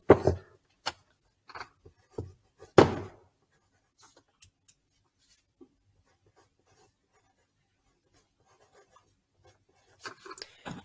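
Pen strokes scratch across paper while a math problem on adding and subtracting polynomials is written out, coming in short, close bursts at first and then fading to faint, scattered marks.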